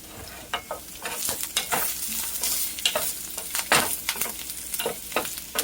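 Butter sizzles in a hot pan while shrimp and grits are cooked, the frying crackle busy and continuous with frequent sharp scrapes and clinks of stirring, close and fairly loud.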